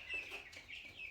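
Broiler meat chickens about sixteen days old cluck in a home poultry setup, a steady run of close, overlapping soft clucks and chirps with no talking.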